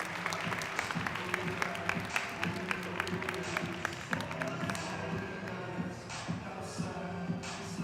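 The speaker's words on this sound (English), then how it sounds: "Let's give them a runway-worthy round of applause" Clapping from an audience at a career institute ceremony, scattered individual claps standing out sharply over a low murmur of the room, fairly faint and loose in rhythm, with some shuffling and voices beneath.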